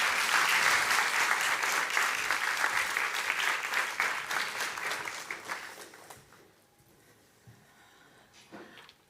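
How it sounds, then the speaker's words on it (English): At the 2023 NATO Youth Summit in Brussels, a conference audience applauds Martina with a full, sustained round of clapping that tapers off after several seconds into near quiet with a few faint stray noises. "let's give Martina a huge round of applause"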